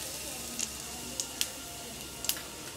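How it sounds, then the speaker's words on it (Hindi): Cardamom seeds, cumin and asafoetida tempering in hot fat over a low flame, a soft steady sizzle with a few sharp crackles and pops spread across a few seconds. "अब इसमें हम इलायची के जो दाने लिए थे उसका छौंक लगाएंगे, जीरा डालेंगे और हींग पाउडर डालेंगे।"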